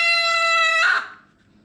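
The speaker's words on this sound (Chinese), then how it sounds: "这个鸡本来就小小的土鸡" A small free-range black-boned hen lets out a loud, close, drawn-out squawk that holds steady and then breaks off and fades.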